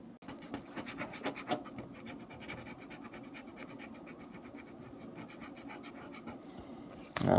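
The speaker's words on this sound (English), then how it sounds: "I'll just scrape all this paint off" Softened paint being scraped off a Jaguar XJ6 part, close repeated rasping strokes, fast at first and then a steadier scratching, ending in a brief louder scrape.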